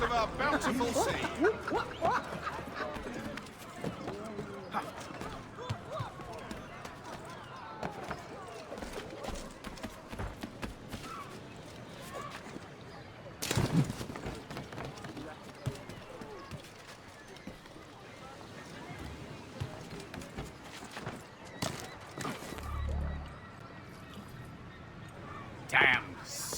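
Horse hooves clip-clop in the PC game Assassin's Creed 3, a light rhythmic patter over busy in-game street ambience with a few sharp knocks.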